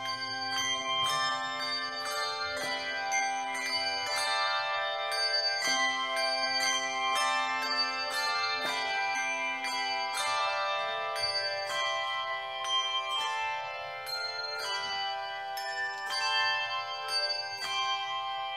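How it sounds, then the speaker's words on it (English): A church handbell choir plays the prelude 'Good Christian Friends' at a Christmas Eve afternoon worship service, with bright, layered bell tones ringing continuously in a sustained, resonant melody with no talking. "I would like to introduce our bell choir."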